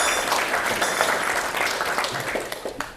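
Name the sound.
audience applause welcoming a panel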